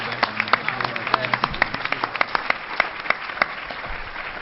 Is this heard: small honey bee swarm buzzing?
no